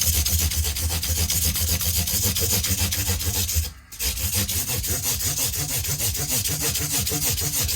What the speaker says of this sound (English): I'm now doing 400 grit sanding.